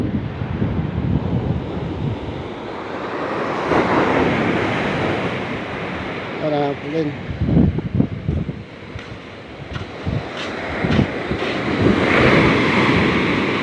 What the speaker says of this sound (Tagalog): lalaki pa ho ng alon, miski ho pakati na ang tubig, paurong